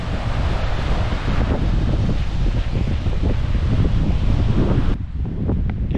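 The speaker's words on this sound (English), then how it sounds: "pretty breezy today" Steady, loud wind buffets the microphone on a breezy seaside cliff hike above a cape and lagoon, with a faint wash of surf beneath, continuous for several seconds with a brief dip near the end.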